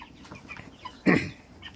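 A large meat chicken gives a brief cluck, one short sharp call against low farmyard background noise.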